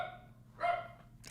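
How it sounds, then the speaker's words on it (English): A neighbor's dog barks once in the distance, a short faint yelp rising out of a quiet background, followed by a brief higher yip near the end. "That neighbor dog is barking and now Luigi's going absolutely fucking cra"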